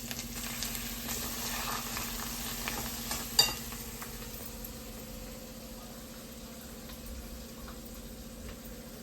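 Wet ground spice paste frying and being stirred in a pan for a pigeon-pea amti, a faint steady sizzle with one sharp clink of the spoon near the start, then a low quiet fry.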